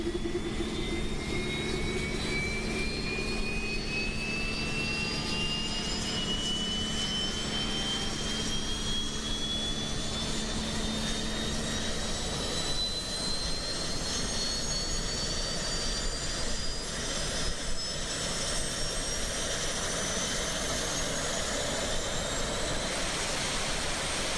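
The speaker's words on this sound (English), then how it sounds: "Let's get this APU fired up." An Embraer E-Jet auxiliary power unit in a flight simulator spools up, a rising turbine whine climbing steadily over a constant roaring hiss.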